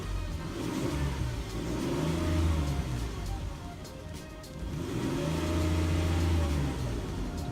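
A 2004 Ford Explorer engine in a video game revs up twice, rising and falling in two long swells of mid-pitched engine drone, steady and fairly loud.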